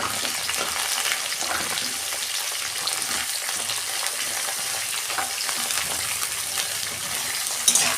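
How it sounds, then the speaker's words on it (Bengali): Papaya, carrot and drumstick vegetables fry together in a pan with a dense, steady sizzle and soft stirring scrapes throughout, close and fairly loud. "এইগুলো আমি একসঙ্গে ভেজে নেব।"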